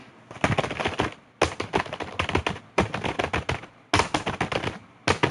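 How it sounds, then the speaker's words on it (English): Quick bursts of computer keyboard typing, clustered clacking keystrokes arriving in four distinct runs separated by short pauses, close and clear with no talking. "Oh, I got a keyboard. I gotta use my keyboard."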